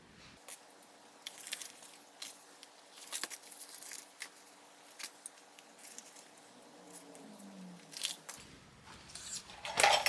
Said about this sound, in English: just make little tiny snips into your gusset